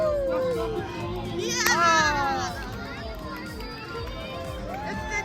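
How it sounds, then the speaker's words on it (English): Spectators along a Disney Princess race course cheer runners with excited, close shouting voices, one high whooping cry rising above a lively crowd clamour. "Cheering crowd!"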